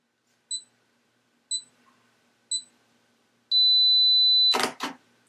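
Three short, evenly spaced electronic beeps from a Fujifilm X-T1 self-timer, then a sustained tone ending in a crisp mechanical shutter click and a second softer clack, all close and clear.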